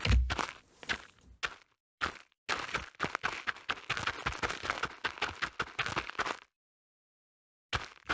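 Running footsteps recorded for game sound design: a fast, steady series of close, crisp impacts over several seconds, with a few separate steps before, then silence and one last step.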